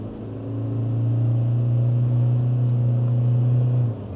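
A 2022 Toyota HiLux ute in power mode pulls up a hill, its engine a loud, steady, deep drone with a low hum that holds for several seconds before easing off near the end, with no talking.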